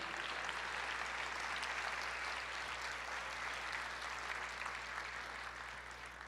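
A church congregation claps together in worship, a steady, sustained wash of applause heard somewhat distant in a reverberant hall, easing slightly at the end.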